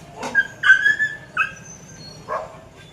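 Two street dogs brought back by the municipal corporation whine and whimper up close, with short high yelps and a brief bark spread over a few seconds and quiet gaps between.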